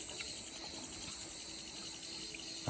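Tap water runs steadily while a shepherd dog's head is washed, a continuous close hiss and splash with no voices.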